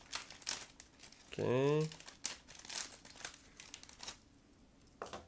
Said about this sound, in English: we will have to use scissors in order to open it. Just give me a second to cut through